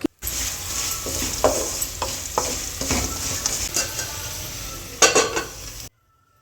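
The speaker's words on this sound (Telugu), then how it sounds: "సో పక్కన ఇంకొక పక్కన ఆలు ఫ్రై అయితే ఫ్రై అవుతూ ఉంది మనకి." Potato slices fry in hot oil for a lunch dish, giving a steady close sizzle broken by scraping stirs and a louder burst near the end, with no talking.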